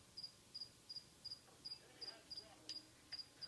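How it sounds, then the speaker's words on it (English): Crickets kept as feeder insects in a bearded dragon's enclosure chirp in regular paired pulses, faint and steady, with no talking over them. "I would like to apologize for the cricket noises in the background"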